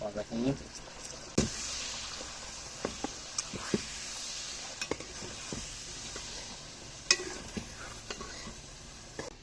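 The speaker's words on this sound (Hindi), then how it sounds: "तो अभी हम इसमें डाल देंगे टमाटर" Two medium tomatoes go into a pot of frying chicken for aloo gosht korma, giving a steady close sizzle with spoon stirring and occasional clinks against the pot while someone talks.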